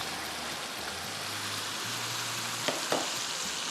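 A paste of boiled and ground tomato, onion, ginger and garlic sizzles steadily in hot oil left over from frying fish for a fish curry, with a couple of brief stirring clinks near the end.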